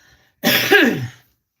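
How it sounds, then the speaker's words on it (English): A single harsh, loud cough, close up, lasting under a second, with silence before and after. "I know I'm coughing"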